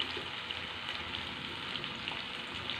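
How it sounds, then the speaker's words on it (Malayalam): Small ozhuka fish frying a few at a time in hot oil with curry leaves, crackling with a soft, steady sizzle and tiny pops, close and quiet with no talking. "നമുക്ക് കുറേശ്ശെ ഇട്ട് വറുത്തെടുക്കാം"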